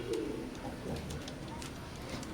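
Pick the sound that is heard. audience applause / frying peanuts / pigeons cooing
pigeons cooing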